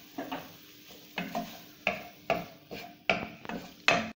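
A spoon scrapes and stirs food in a frying pan over a gentle sizzle, with about eight distinct sharp strokes spaced unevenly, close and fairly loud, no voices.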